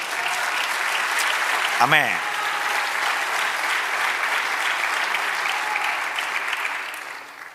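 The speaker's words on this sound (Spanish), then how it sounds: "Dale un aplauso al Señor" A church congregation breaks into sustained, steady applause during a sermon, a full wash of clapping throughout, with a brief voice rising over it near the start.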